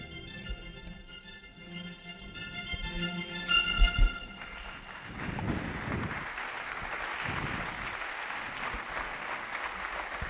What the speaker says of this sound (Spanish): Este aplauso es desde el aula de la Pontificia Universidad Lateranense.